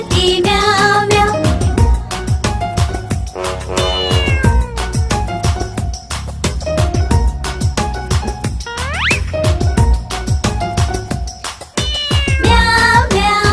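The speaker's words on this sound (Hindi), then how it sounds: "बिल्ली करती म्याऊ म्याऊ" Cat meowing repeatedly and loudly over a sung Hindi children's rhyme, the meows rising and falling in pitch throughout alongside the music and singing voice.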